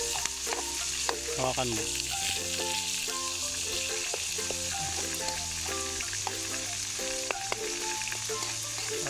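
Recado is sautéed in a hot pan, giving a steady, close sizzle throughout. Light stirring clinks and bursts of background music and talk sit over it, and one voice speaks briefly.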